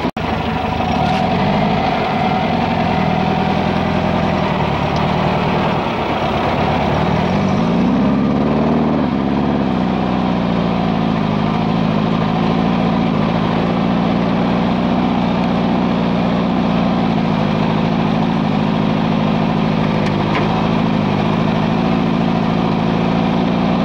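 Volkswagen-style stroker engine idling, a continuous loud low drone that settles into an even steady rumble after a brief change in tone, with no talking.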